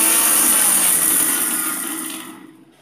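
An electric blender whirs steadily as it blends dried fish leaves, a bright, high motor whine that fades out after about two seconds.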